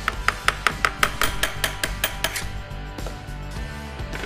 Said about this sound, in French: je peux détacher prudemment le logiciel du différentiel, et pour cela, j'utilise un petit marteau